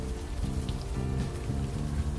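Steady, even rain hiss falling in the video game Unavowed, with a low tonal drone underneath and no pauses throughout.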